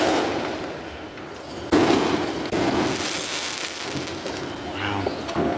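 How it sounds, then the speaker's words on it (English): Fourth of July fireworks launch and pop some distance away. Sharp bangs and crackles punctuate a low, rumbling background, with faint murmurs from onlookers. "So you can hear them like shoot out, and then that's when they make a pop, like a few seconds later."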